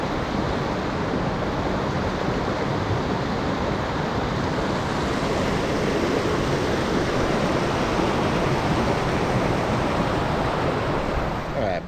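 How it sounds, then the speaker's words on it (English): Tokopah Falls in Sequoia National Park produces a loud, steady roar of rushing water, a dense unbroken wash that holds constant for the whole stretch with some wind buffeting the microphone. "the waterfall is going really well this year"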